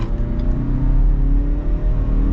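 A 2022 Ford Ranger Lariat Tremor pickup accelerates on a town road, its engine a steady low droning rumble heard from inside the cab, rising slightly in pitch with no talk.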